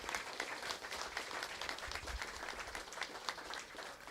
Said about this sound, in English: Let's give her another round of applause just for those things alone